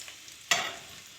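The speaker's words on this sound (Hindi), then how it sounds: "ऑयल हमारा गर्म हो चुका है। अब हम इसमें प्याज डाल देते हैं" Onions dropped into hot oil in a kadai, a sudden loud burst of sizzling that flares up at once and keeps hissing steadily close by.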